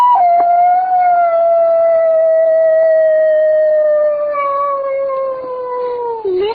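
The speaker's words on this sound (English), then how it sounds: "Child, that's a neighbor's dog, Mr. Hitchfoot." A neighbour's dog howls in one long, sustained, slowly falling wail that holds for several seconds before tapering off at the end, loud and close with no talking.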